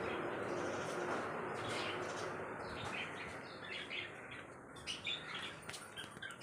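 A pet sparrow in a house gives faint, scattered chirps and a flutter of wings against a steady background hiss, quiet and somewhat distant, with no clear talking.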